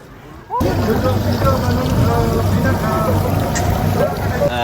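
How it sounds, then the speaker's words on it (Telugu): Twin engines of a new motorboat drone steadily and close, a loud continuous rumble with wind and water noise, and people talking over it, on mangrove waters at Langkawi. "అది కొత్త బోట్ అనుకుంటాను రెండు ఇంజిన్లు ఉన్నాయి దానికి"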